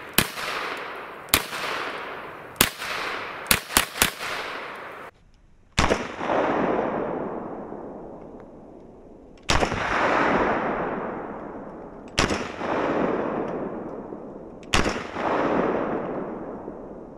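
Stechkin APS pistol fired in short rapid bursts at first, then several loud, widely spaced reports, each trailing off in a long rolling echo, with quiet gaps between and no voices.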